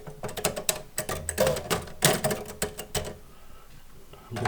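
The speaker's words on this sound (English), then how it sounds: "It's a Royal typewriter," The carriage and keys of a vintage Royal typewriter in an abandoned mansion clatter and clack in an uneven series of mechanical clicks and rattles, close and moderately loud, with no talking.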